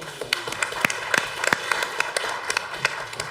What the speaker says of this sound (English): Vera, who is right here, stand up and let them clap for you too